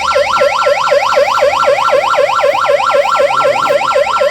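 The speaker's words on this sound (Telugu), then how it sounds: "ఇది అంబులెన్స్ సౌండ్ వస్తుంది" An ambulance siren played through a microphone at a school science demonstration wails in a steady, rapid up-and-down sweep, loud and continuous throughout, with no voices over it.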